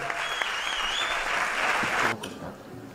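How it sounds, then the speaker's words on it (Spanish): A theater crowd at a sports awards gala in Teatro Avenida, Jaraíz, applauding, dense clapping that swells and then fades out near the end, with a faint voice in the background. "Fuerte aplauso para el mejor deportista cadete masculino, Ernesto Marcos Alegre."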